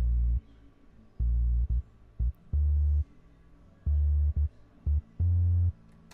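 A deep bass line made with FL Studio plugins for a reggaeton beat plays alone, short and sustained low notes in a repeating syncopated pattern over a faint background.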